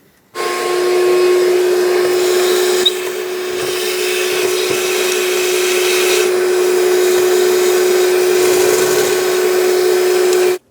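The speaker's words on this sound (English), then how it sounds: "If you have a lot of debris like this, consider vacuuming it up." A shop vacuum sucking debris from around the engine of a 2011-2020 Dodge Grand Caravan 3.6L, a loud, close, steady whining roar with a constant tone, running alone from start to finish.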